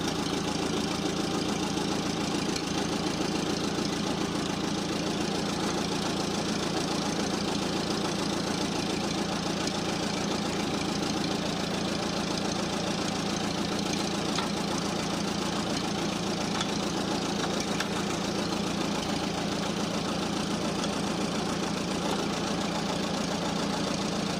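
A car engine runs steadily through its gears, a continuous broadband drone with a slight knocking texture and no clear pauses, loud and close throughout.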